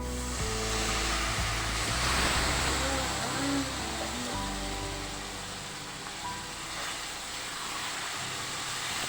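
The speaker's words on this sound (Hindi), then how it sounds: "हम पानी डाल रहे हैं इसमें।" Water poured into semolina halwa roasting in a pan with sugar, coconut, cashews and almonds, giving a loud, steady hissing sizzle with a bubbling surge at the start, under a calm recipe setting.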